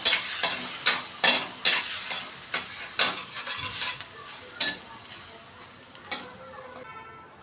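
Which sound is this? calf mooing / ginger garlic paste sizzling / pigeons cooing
ginger garlic paste sizzling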